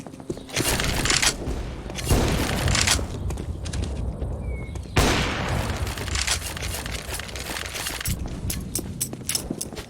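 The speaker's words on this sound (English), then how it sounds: "Throw in a flashbang." A flashbang grenade goes off in Counter-Strike, one of several loud, broadband bursts and booms in a chaotic exchange of gunfire and explosions.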